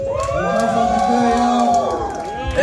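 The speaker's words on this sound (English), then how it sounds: "Give him a big round of applause right fucking now!" A crowd at a live hip-hop concert cheers and whoops for a performer coming on stage, loud overlapping shouts and yells filling the room with sustained excited voices.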